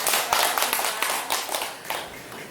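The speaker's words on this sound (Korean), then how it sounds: "박수 부탁드립니다." A small audience at a tea ceremony session claps to welcome the teacher, a brief patter of scattered hand claps close by that fades toward the end, with no talking.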